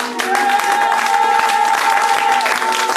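A church congregation at a New Year's Eve vigil bursts into loud, sustained applause and cheering, a dense crowd roar close by with a held tone running through it.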